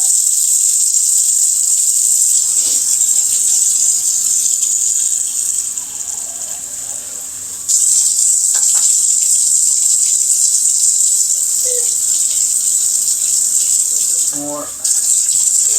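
Warm water pours steadily from a kitchen tap into a sink while bread is being made, a broad, constant hiss broken by a brief pause partway through, with a short spoken word near the end.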